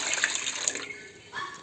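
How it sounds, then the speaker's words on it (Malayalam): Water pours from a vessel over two kilograms of rice in a large pot for Kerala dum chicken biryani, a bright steady splashing stream that eases off then briefly swells again, with no talk. "ശേഷം നമുക്ക് വെള്ളം ഒഴിച്ച് കൊടുക്കുന്നത്"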